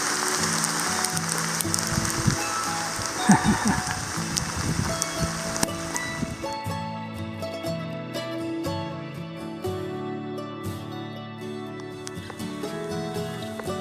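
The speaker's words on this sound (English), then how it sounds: "no trip is complete without a hailstorm" Tiny hailstones pelt down during an October hailstorm on a backcountry trail, a dense, crackling patter that is loudest early on and then eases into a softer, steadier rattle.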